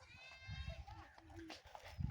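Goats bleat in short, wavering cries close by, repeated over a couple of seconds against a low rumble of movement outdoors.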